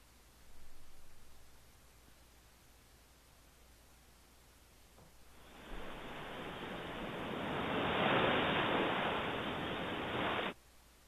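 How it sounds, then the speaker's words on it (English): Steady ocean surf washes in as a broad, rising hiss, growing louder over several seconds and then cutting off abruptly, over a faint background hiss. "if you want to hear the ocean, this is how you hear the ocean"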